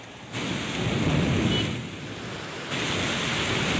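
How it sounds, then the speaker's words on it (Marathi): Cloudburst-like heavy monsoon rain in Guhagar, Ratnagiri pours down in a dense, roaring wash, with the downpour swelling and easing slightly but never letting up. "गुहागर तालुक्यात ढगफुटी सदृश पाऊस झालाय"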